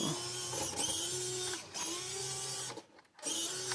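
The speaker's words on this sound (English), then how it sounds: "So power wise this is full throttle." An EazyRC Arizona RC crawler's electric motor runs at full throttle as a close, high mechanical whine with gear noise, cutting out briefly twice and then spinning up again.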